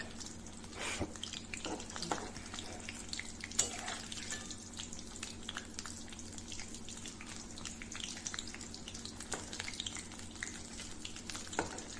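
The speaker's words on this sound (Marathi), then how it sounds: "तळून घ्यायचे हे बघा ह्या पद्धतीने असे छान तळून घ्यायचे मस्तपैकी" Potato bhaji deep-frying in hot oil, a steady soft sizzle running throughout with faint clinks and stirring noises, no voices.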